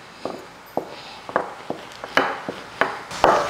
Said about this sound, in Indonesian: Jadi adonan yang udah kita istirahatin, sekarang kita akan rolling.